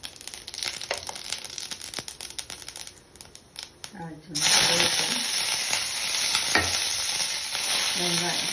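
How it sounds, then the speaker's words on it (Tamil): Mustard seeds and urad dal sizzle and crackle in hot sesame oil for a tempering, a dense, steady frying hiss that grows louder midway and continues close up to the end, with no talking. "நல்லெண்ணெய் விட்டுட்டு கடுகு உளுந்தம் பருப்பு போட்டு தாளிக்கிறேன்."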